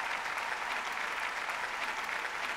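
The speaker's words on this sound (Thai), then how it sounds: "ขอเสียงปรบมือให้หัวใจที่ใหญ่ของพ่อกับแม่ติ๊กรอบหนึ่งได้ไหมคะ" Steady, dense applause from an audience at an Amway diamond-level business award ceremony, loud and continuous with no break, crowd clapping alone without talk.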